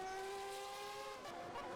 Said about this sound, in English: he's spinning quite dramatically there